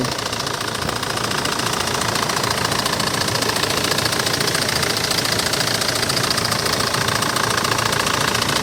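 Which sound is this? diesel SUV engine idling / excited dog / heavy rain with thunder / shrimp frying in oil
diesel SUV engine idling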